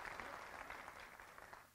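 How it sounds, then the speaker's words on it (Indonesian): Audience applause at an Indonesian leadership discussion forum, a steady dense patter of many hands clapping throughout, fairly distant and even, with no voices over it. "Boleh minta tepuk tangan juga sekali lagi,"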